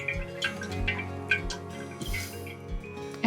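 Homemade ginger beer syrup dripping and trickling through a strainer as the pulp is squeezed, giving soft irregular drips and splashes up close, with no talk.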